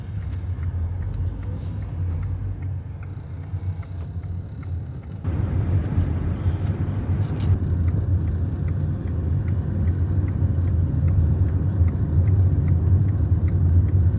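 Car driving on the approach to the border crossing near Foz do Iguaçu, Brazil: a low, steady engine and road rumble that grows noticeably louder and fuller about five seconds in, then continues evenly with no talk.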